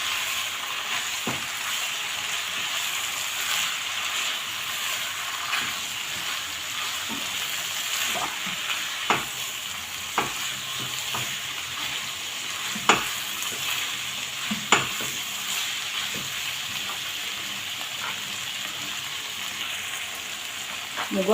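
Sliced onions frying for shawarma sizzle steadily in a pan while a spoon stirs them, with occasional sharp scrapes and taps against the metal over the continuous hiss. No one speaks.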